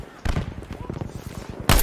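Enemy gunfire in a video game shooter, several sharp close shots and a quick burst of rapid fire, with a loud final crack at the end.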